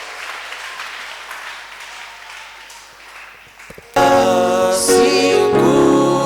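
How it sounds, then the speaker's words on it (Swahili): Congregation in a Sunday church service bursting into loud, sustained applause that rises sharply partway through, with bright ringing tones layered over the clapping. "Pokea kwa makofi mengi mazuri ya shangwe"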